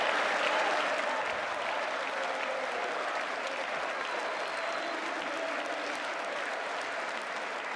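Sustained audience applause fills a large chamber during a State of the Union address, a dense, steady roar of many hands clapping at fairly even loudness throughout, with no voices standing out.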